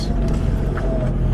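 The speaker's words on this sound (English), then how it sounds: "A little bit of revs." Off-road vehicle engine revving gently in first gear while crawling over soft sand, a steady loud motor drone held throughout the short moment without speech.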